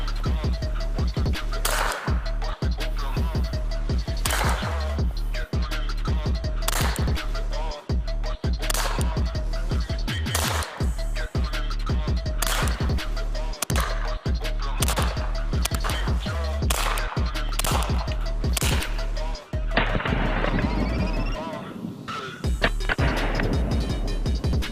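Rapid, regular shots from an HK USP 45 Tactical pistol with a suppressor, each a sharp, loud crack in a long string of evenly spaced reports. A rattling clatter follows near the end.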